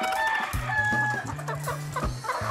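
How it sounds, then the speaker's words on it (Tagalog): Free-range chickens cluck and call repeatedly at close range, with overlapping short bursts and a rooster-like tone among the flock. "ang dami ng mga manok"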